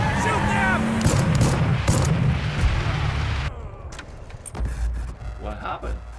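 Gunfire rings out in a video game, a dense loud barrage of shots and booms under game voices, ending abruptly before quieter rumbling and clatter.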